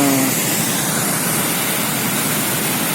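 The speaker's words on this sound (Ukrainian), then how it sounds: "І це потік води маленький" A small stream, shrunk to half or a third of its usual flow, rushes steadily and close by as an unbroken broadband wash of water with no voices.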